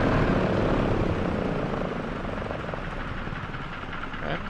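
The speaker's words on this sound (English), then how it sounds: "Okay, I'm stopping the engine" A flying boat's aircraft engine in a flight simulator game drones loudly and steadily with a broad rumbling roar, then eases slightly lower in level as it begins shutting down.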